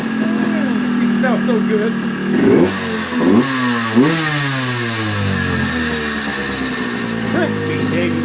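A 40-year-old two-stroke dirt bike engine runs and revs in sharp rising and falling bursts, loud and close, while someone talks over it.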